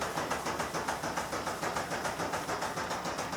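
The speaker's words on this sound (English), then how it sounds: "Actually, you can hear the steam engine," A steam engine powers 19th-century belt-driven woodworking machinery, giving a steady rhythmic chuffing and hissing, with evenly spaced beats about five per second running continuously at moderate loudness and no talking.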